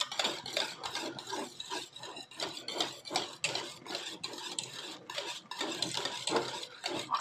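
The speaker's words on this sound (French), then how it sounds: "Remuez bien, remuez bien. Vous allez voir que votre pâte s'épaissit." Spoon or whisk scraping around a bowl while stirring a thick homemade gluten-free, lactose-free flan batter, a steady run of close rubbing, clinking strokes with no talk.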